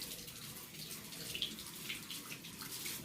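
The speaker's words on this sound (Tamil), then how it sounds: "நம்ம டேப்பில் வச்சு க்ளீன் பண்ணிடலாம்" Tap water runs steadily over a washing machine inlet filter being rinsed clean, a soft, close, continuous splashing hiss.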